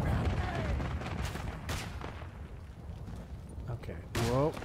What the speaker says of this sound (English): Somebody called in a mortar strike.